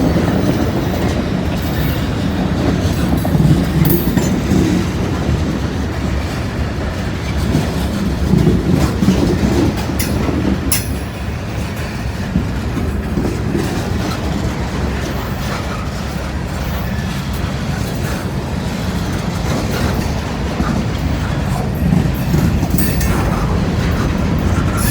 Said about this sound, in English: They got a pretty long train this morning.